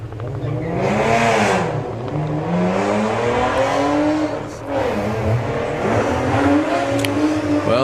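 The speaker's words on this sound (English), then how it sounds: "The inimitable sound of John Crawford's car chasing down Reese." A VW drag racing car accelerates hard down the strip at Santa Pod, its engine note climbing through the gears in long rising sweeps, loud and sustained over a broad roar of track noise.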